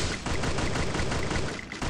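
Rapid bursts of automatic gunfire rattle continuously in the Free Fire battle-royale video game, loud and dense with almost no pause over two seconds.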